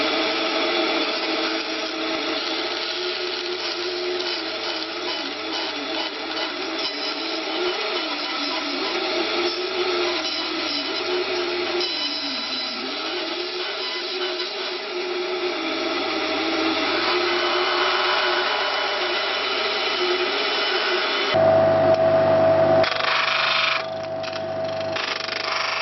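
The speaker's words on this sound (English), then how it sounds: "I'm just going to bandsaw these out." A bandsaw runs steadily while cutting out small wooden bridges for a stick dulcimer, a continuous loud whine with a shift in pitch near the end as the blade works through the wood.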